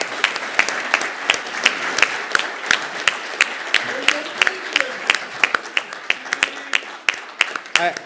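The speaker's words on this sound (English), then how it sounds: "So please stand up and give applause." A conference audience at a security conference closing ceremony applauds steadily, sharp individual claps standing out over a sustained patter of clapping, with some voices underneath.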